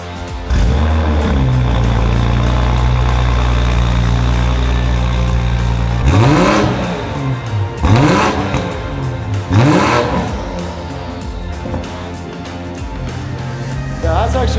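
A new Toyota Supra with an aftermarket downpipe, midpipe and rear exhaust section starts and idles loudly, then gives three sharp revs that rise and fall before settling back to a steady idle.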